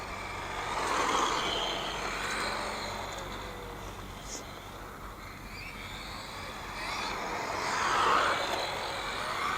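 A Tamiya TT-02 RC Porsche 911 with a standard brushed motor whirs steadily, its motor and tyre noise swelling loudly near the start and end with a quieter stretch between, continuous over broadband background rumble.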